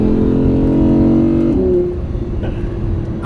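An Audi R8 Spyder engine pulls hard with a loud, smooth rising drone, then eases off into a lower rumble near the end, heard up close from inside the car.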